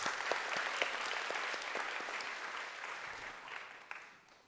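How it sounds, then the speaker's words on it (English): A crowd applauds steadily with dense clapping, holding strong before tapering off toward the end. "Please give them a big round of applause."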